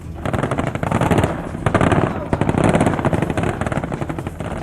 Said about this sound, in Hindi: ताइवान के सैनिक टैंकों और बख्तरबंद गाड़ियों से ताबड़तोड़ गोलियां बरसाते नजर आए